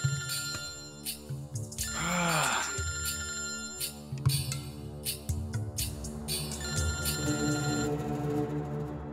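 A phone ringing indoors during a tense evening scene, bright repeating electronic ringtone tones over a busy bed of background music and chatter, fairly quiet overall.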